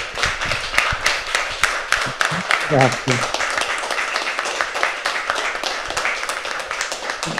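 An audience applauds with steady, dense clapping throughout, and a brief spoken word rises over it partway through.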